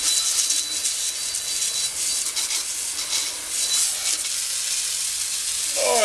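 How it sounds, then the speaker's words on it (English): Water hits a hot cast iron pan during rinsing, a bright hissing sizzle with steamy spray that swells and fades and never stops, heard close and alone. "So, give it a good rinse."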